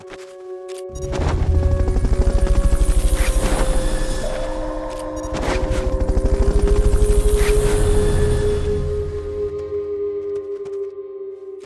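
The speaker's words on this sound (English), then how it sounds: "Fulton recovery subject confirmed onboard helicopter" A helicopter in the video game Metal Gear Solid Peace Walker gives a steady rotor thump with a droning engine whine, rising and falling in two long loud swells and then easing slightly, with no voices over it.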